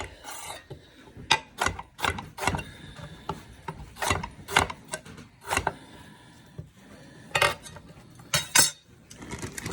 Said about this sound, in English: Just going to cut those up into bite-sized hunks